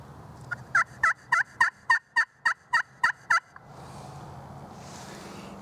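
A turkey friction call played with a homemade walnut striker gives nine crisp, evenly spaced yelps, each rolling from a high note down to a raspy low end, close and loud. A soft hiss follows, with no talking.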